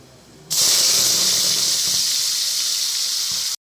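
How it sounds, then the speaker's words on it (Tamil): Ground spice paste for a paneer gravy poured into hot oil spiced with cinnamon and cloves, bursting into a loud, steady hiss that starts abruptly and holds for about three seconds before cutting off. "இப்போ நம்ம அரைச்சி வச்ச பேஸ்ட்டை இதை ஊற்றிக்கலாம்"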